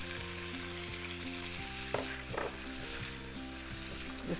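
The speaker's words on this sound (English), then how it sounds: "Now we are going to get our shrimps into the pan." Washed, deveined shrimp sizzling in a hot pan as they are stirred, a quiet steady frying hiss with occasional scrape and clink of the utensil, under a faint background hum.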